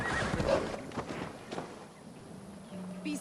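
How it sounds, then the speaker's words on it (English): A video game horse in Assassin's Creed Valhalla whinnies and snorts over clip-clopping hooves, close and fairly loud, then the sounds fade into a quieter background with a faint tone. "Basim, Eivor, to horse!"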